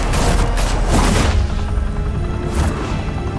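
Gunfire in the Batman Telltale game erupts loud and close, a heavy burst of booming shots that fades into a rumbling tail, with another sharp blast near the end.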